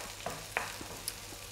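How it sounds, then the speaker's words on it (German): Onions fry slowly over low heat in a pan for a Turkish egg dish, giving a steady soft sizzle with a few small stirring clicks, close and alone. "so kann das jetzt so ganz langsam vor sich hin brutzeln"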